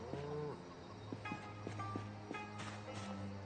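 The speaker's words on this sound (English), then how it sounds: "We take care of our cows here, even when they're being extremely obstinate." A cow mooing in Project Zomboid, several drawn-out lowing calls over a steady low hum, mixed with soft thuds of hooves or footsteps, fairly quiet overall.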